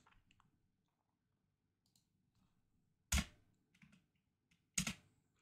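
A computer keyboard is typed on softly in light, scattered taps. Two loud, sharp key presses follow, the Enter key striking hard, each trailed by a few quieter clicks.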